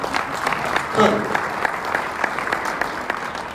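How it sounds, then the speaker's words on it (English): A crowd at a talk in Reno applauds, scattered claps that swell briefly near the start and then continue unevenly, mixed with some crowd voices and talk. "You can clap for my dad, okay?"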